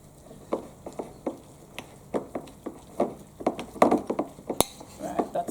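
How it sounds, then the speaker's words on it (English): A spoon scrapes and clinks against a bowl as a bagel filling is mixed with mayonnaise in a school kitchen, giving a series of irregular, close knocks and scrapes with a sharper clink near the end. "Mix this in."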